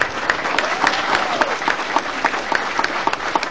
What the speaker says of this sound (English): let's give a big round of applause for the work for all of our students on the program